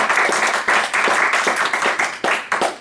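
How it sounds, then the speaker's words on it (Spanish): A church congregation claps in a loud, steady burst of applause during a Lord's Supper service, with dense overlapping handclaps and periodic stronger surges throughout. "Voy a pedir un aplauso."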